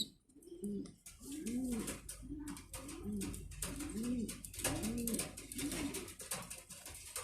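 A female Indo Legend colour Mundiya pigeon, seven-feathered, at a farm, giving a steady series of soft rolling coos close by, repeated about once a second over faint background noise.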